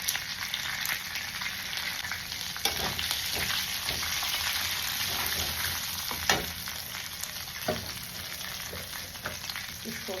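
Cumin, cinnamon and a couple of cardamom pods sizzle in hot oil in a pan where prawns were just fried, a steady soft crackle broken by a few sharper pops and spoon taps.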